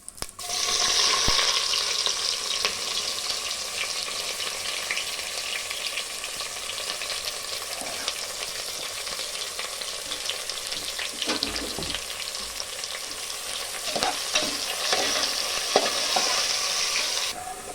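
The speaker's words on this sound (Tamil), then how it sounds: "வெங்காயம் நல்லா வதங்கிடுச்சு" Six sliced onions sauté in oil with bay leaf in a pot for a 1 kg seeraga samba mutton biryani. A loud, continuous close sizzle runs throughout, broken by intermittent stirring scrapes, with no voices.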